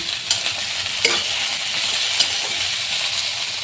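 Ground cumin, ginger, green chilli and black pepper paste sizzles steadily in hot oil for a shol fish curry, with a few sharp clinks of a spoon against the pan as it is stirred.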